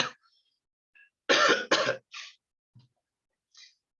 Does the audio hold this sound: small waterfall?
no